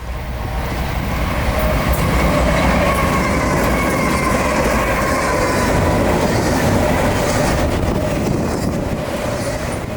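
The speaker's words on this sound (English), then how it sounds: "radio chatter of a southbound train coming up on us, and quickly" A southbound Norfolk Southern intermodal freight train, Jacksonville bound, rolls past loudly and close, a dense continuous roar of wheels and cars with faint clatter and squeal holding steady for the whole stretch.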